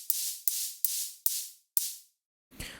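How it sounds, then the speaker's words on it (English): Bursts of high-passed white noise from a single-voice oscillator layer in a Reason 8 electro big-room supersaw patch: five sharp hissing hits that each decay quickly, followed by a short, darker, rougher noise burst. "So now the white noise layer just sounds like this."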